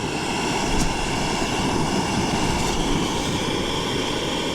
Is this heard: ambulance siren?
no